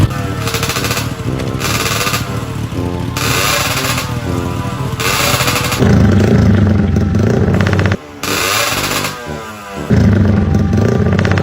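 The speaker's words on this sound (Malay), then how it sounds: "Tu tengok motor gua pula." A loud motorcycle engine revving hard in repeated surges, with rapid rattling bursts and brief drops between revs, very close.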